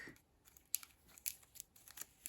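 Plastic wrap is peeled off a Boba Fett action figure, giving faint, crisp crinkling and tearing bursts in irregular bursts up close.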